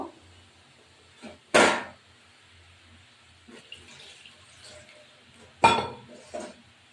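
Water from rinsing a bowl tipped into a pan of rui fish curry on the stove, two short bright splashing pours separated by quieter clinks and handling sounds, close and otherwise quiet.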